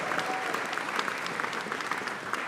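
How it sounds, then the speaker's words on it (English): A hackathon closing ceremony audience in Sydney applauds in a steady, dense wash of clapping from a large crowd, sustained throughout with no break. "One more big round of applause for all of our judges."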